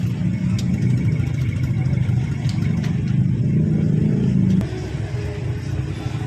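Road traffic of cars and motorcycles rumbles steadily and close by, with engines revving and droning for several seconds before easing slightly near the end.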